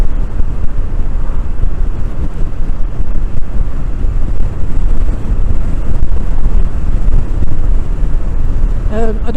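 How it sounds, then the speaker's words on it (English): Loud, constant wind roar on the microphone while riding a Royal Enfield Scram 411 motorcycle, heavy low rumble throughout, and a brief voice near the end. "God, it's windy."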